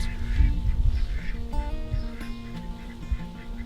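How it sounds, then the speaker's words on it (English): Several ducks quack in a busy, overlapping chorus close by, with steady background noise and a few higher tonal bird calls mixed in. "All my ducks are back there quacking over something, I'm not sure what."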